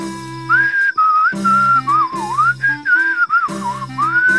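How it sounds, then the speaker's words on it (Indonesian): Someone whistles a wandering, melodic tune nearby, with clear rising and falling notes over a steady low background tone. "jangan bersiul di malam hari"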